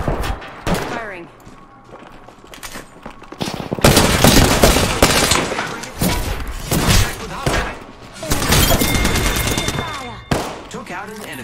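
Rapid bursts of video game gunfire and heavy thumps from a team shooter, loud and repeated in clusters throughout, with voices calling out over the shooting.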